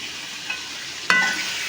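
Radish and other vegetables sautéing in oil with homemade chili powder and turmeric for sambar, a soft steady sizzle, briefly louder, with a sharp utensil clink as the pan is stirred.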